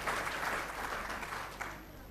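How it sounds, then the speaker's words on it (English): An audience at a university convocation for a computer science and engineering department applauds in a dense, steady wash that sounds somewhat distant and fairly soft and tapers slightly toward the end. "I just request you to put your hands together for yourself"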